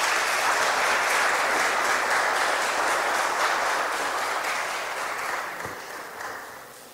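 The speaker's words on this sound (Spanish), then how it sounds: "con el aplauso de todos ustedes" An audience at a cultural event at the Centro Cultural de España in Santo Domingo claps for several seconds in a dense, sustained round of applause that gradually thins out and fades.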